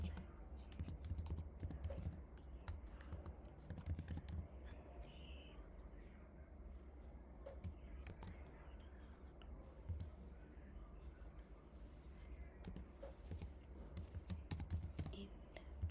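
Code being typed on a computer keyboard, rapid irregular key clicks in bursts over a faint room hum, close and quiet.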